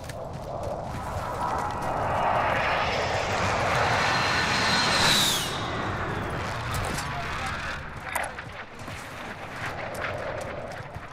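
Propeller airplane engines in a multiplayer video game battle, a loud steady drone that swells and fades as planes pass nearby, with explosions and players talking over it.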